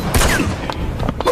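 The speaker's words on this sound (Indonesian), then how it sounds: "Daoba sudah siap dengan pistolnya dan menembak Lin Xia" Pistol shots ring out in a film scene, several loud, close reports over roughly a second amid a dense, booming soundtrack.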